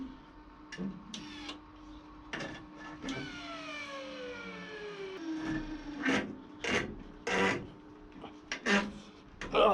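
Steering wheel on a Belarus 250AS tractor creaking as it binds, with faint squeaky rubbing tones and sliding pitch sweeps between intermittent louder rasping scrapes and knocks, fairly quiet overall.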